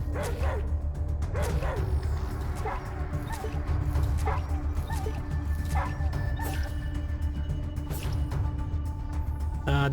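Dog barking and yipping in the post-apocalyptic RPG A.T.O.M., repeated sharp barks and whimpers over a loud, dense game soundscape of combat noise and music.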